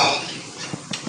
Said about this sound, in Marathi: आता ह्याला पुन्हा हलवायचं आहे.